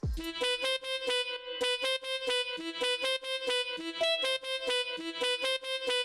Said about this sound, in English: For the lead I used Purity as well, so I used this solo tenor with quite some effects on there.